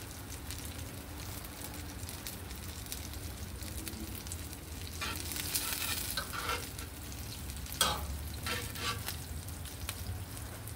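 Shrimp and fish sizzle and crackle steadily as they fry in a pan, with occasional stirring scrapes and a sharper pop partway through.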